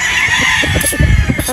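A gamefowl rooster at a game farm in Batangas crows loudly and close, a single drawn-out call over steady farmyard background noise.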